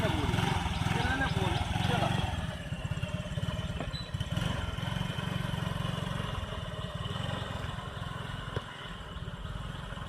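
Scooter engine running steadily with the throttle eased on gently, a low, even putter with light clatter, while a person talks over it.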